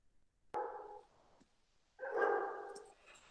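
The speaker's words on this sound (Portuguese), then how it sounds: "os cachorros aqui começaram" Dogs bark in two short bursts nearby, a sharp single bark followed by a longer volley of yaps, in an otherwise quiet room.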